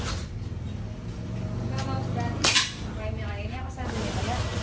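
A PCP air rifle fires a single short, sharp crack, moderately close, over steady background noise and speech.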